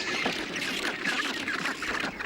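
A tightly packed rockhopper penguin colony calls continuously, a dense overlapping racket of harsh squawks and brays from many birds, near and fairly loud with no talking.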